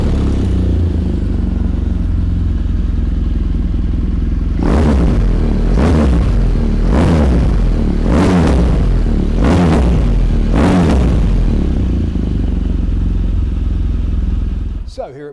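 A BMW R1200GS Adventure Iconic motorcycle engine runs at a steady idle, then is revved five times in a row with sharp rises and falls before settling and cutting off near the end.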